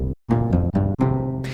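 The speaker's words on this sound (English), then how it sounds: "I'm going to do that with a completely different sample that isn't related to a bass at all, and turn it into a bass." A synth bass made from a non-bass sample plays four short, punchy notes in a quick rhythm, with a gritty, noisy texture that flares up at the end.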